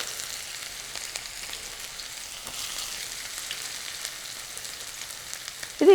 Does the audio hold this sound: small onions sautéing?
yes